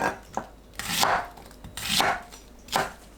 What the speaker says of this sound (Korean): 양파를 한입 크기로 썰어주세요.